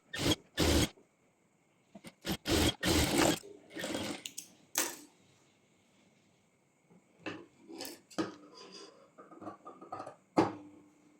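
A sewing machine stitching the bottom hem of a pant leg in short, close bursts of rapid whirring, separated by quiet pauses and faint handling sounds of the fabric.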